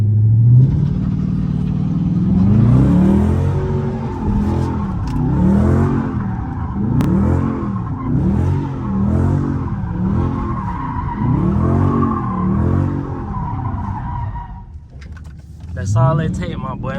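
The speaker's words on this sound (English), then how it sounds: "you put your car in manual, put it in first gear. Put your joint in first gear. Now that you're in manual and first gear, my boy, you start off with a slight little burnout." Dodge Charger RT in manual mode and first gear doing a burnout and slide, its engine revving hard in repeated rising and falling surges while tires squeal continuously, loud and close, with someone talking over it.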